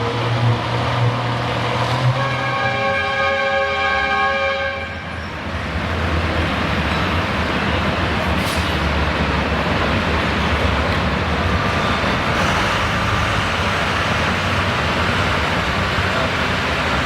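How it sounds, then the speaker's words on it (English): A Farmall tractor at a winter tractor pull in Chatham, Virginia roars continuously under load, a dense, loud engine drone that barely dips midway and then carries steadily to the end, with no talk. "Mike off to the races on the Farmall"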